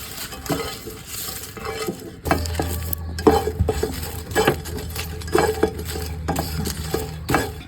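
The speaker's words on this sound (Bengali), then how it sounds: "শুকনো মরিচ আর রসুন ভাজা হয়ে গেছে" Dried red chillies and garlic fry in a pan outdoors, with repeated scraping stirs, metallic clinks of the spoon against the pan and a continuous sizzle underneath, close and fairly loud.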